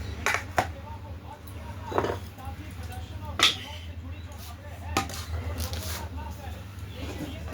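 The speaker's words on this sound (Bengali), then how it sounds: "তারপরে কপিটা কাটবো" Cabbage being cut with a knife in a home kitchen: a handful of sharp, separate chops spaced irregularly over a quiet background.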